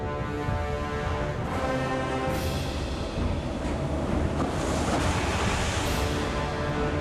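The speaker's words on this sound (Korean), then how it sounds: "바람으로 파도까지 높은데요." Strong wind and high waves on the open Yellow Sea near Gyeongnyeolbiyeoldo, heard from aboard the coast guard ship 1507. A steady, dense roar of surf and gusting wind rushes on without pause.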